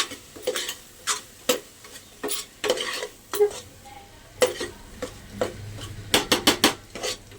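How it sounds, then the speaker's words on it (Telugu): Coriander powder is being stirred into a coconut-milk pea masala curry, heard as a series of distinct spoon scrapes and knocks against the pan, with a quick burst of clatter near the end and a faint simmer beneath. "రెండు స్పూన్లు ధనియాల పొడి బాగా మిక్స్ చేసుకునేసి"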